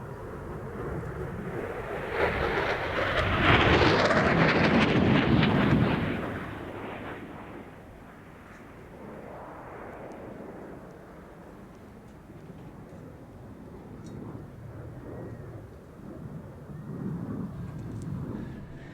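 Aircraft making a high-speed pass at the Cosford air show, a loud broad roar that swells to a peak and then fades into a lingering distant rumble.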